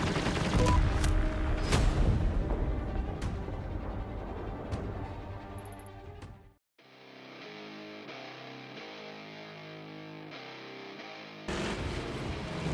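Guns in a video game raid fire in a rapid fusillade of sharp, booming shots for several seconds, then give way to music, with the gunfire returning loudly at the end.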